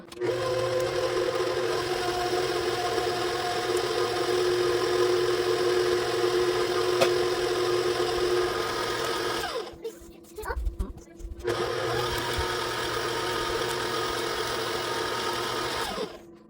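An electric mixer beats butter, sugar and eggs into batter for a cherry jubilee bundt cake, its motor a steady, close whir that cuts out briefly partway through before resuming.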